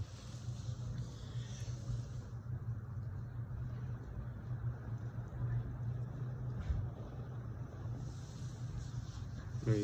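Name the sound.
wind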